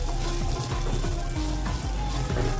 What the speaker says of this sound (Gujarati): ધીમા તાપે આપણે ગુવારની આ રીતે શેકવાનું છે